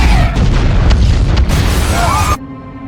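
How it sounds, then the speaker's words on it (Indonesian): A courthouse building blows up in a Superman film, a loud, close explosion with a heavy rumbling boom that fills the clip before cutting off abruptly. "Saat sidang sedang berlangsung, gedung persidangan itu pun tiba-tiba meledak."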